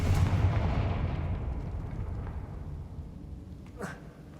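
A Confringo fire spell in Hogwarts Legacy detonates with a heavy blast right at the start, then a long rumbling decay fades out, followed by a brief whoosh near the end.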